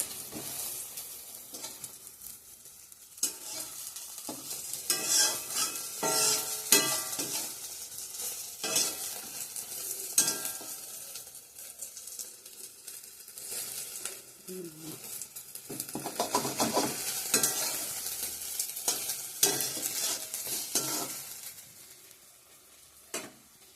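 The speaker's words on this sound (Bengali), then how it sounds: "ফোড়ন দিয়ে দিছি, তেজপাতা, শুকনো লঙ্কা, পাঁচফোড়ন, একটু আদা দিয়ে দেবো এখন।" Bay leaf, dried chili, panch phoron and ginger crackle as they are tempered in hot oil in a home Bengali kitchen. The sizzle swells and fades under repeated close spoon scrapes and pan clatter, with a few brief words spoken.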